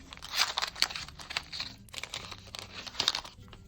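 Crinkly foil wrapper of a Harry Potter Kinder surprise being torn and crumpled up close, sharp rustling bursts in an uneven rhythm, no voices.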